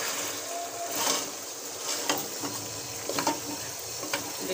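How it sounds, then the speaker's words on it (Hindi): Meat and masala frying together for nali nihari, a steady close sizzle with occasional scraping stir strokes, no talk over it. "यहाँ पे गोश्त भी भून रहा है और यहाँ पे मसाला भी भून रहा है"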